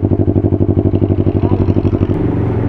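A 650cc motorcycle engine runs close by with a loud, steady pulsing throb, its rhythm easing slightly near the end.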